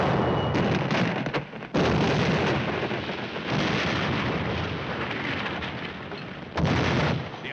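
Heavy artillery fire from a 1951 war film: loud, booming blasts at about 0, 1.7, 3.5 and 6.6 seconds, each followed by a dense, sustained roar and rumble.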